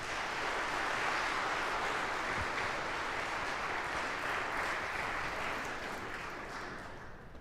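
A church congregation gives sustained, even applause as a reverend comes forward to lead. The clapping is dense and moderately distant, then fades slightly toward the end.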